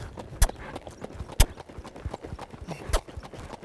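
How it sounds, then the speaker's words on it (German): A ridden horse trots under its rider, hooves clip-clopping in a steady two-beat rhythm, with three sharper, louder hoof strikes standing out among the softer, regular footfalls close to the microphone. "Und dann die nächste gute Gangart kommt hier. Also ist der Trab von ihm,"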